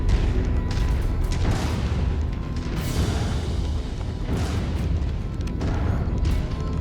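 Artillery nest firing in MechWarrior 5 Mercenaries: a dense, continuous rumble of booming blasts with occasional sharper bursts, loud and sustained, with no talk.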